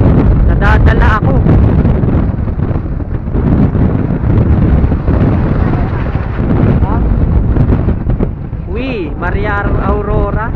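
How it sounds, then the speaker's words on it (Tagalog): Strong, cold wind buffets the microphone on high ground in Aurora province, a loud, continuous rough roar, while people talk over it and a voice rises in exclamations near the end. "Lakas ng hangin."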